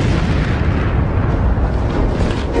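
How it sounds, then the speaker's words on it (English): A Soviet N-1 rocket explodes on its launch pad, a dense, sustained roaring rumble that stays loud and steady throughout with no distinct separate blasts. No talk is heard over it. "The rocket, of course, slowly comes back down on the pad, just explodes in a massive explosion"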